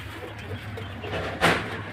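Pigeons at a pigeon seller's stall, low soft cooing close by over a murmuring background, with one brief brighter flutter or call near the end.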